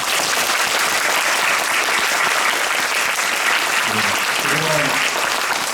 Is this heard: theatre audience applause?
yes